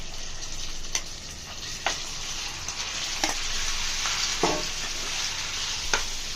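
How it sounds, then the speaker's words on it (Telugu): Chicken frying in hot oil, a steady loud sizzle filling the whole stretch, punctuated by several sharp spatters and pops, close up with no talking. "ఆయిల్ బాగా హీట్ ఎక్కిన తర్వాత ముందుగా కడిగి పెట్టుకున్న చికెన్ని యాడ్ చేసుకుంటున్నాను"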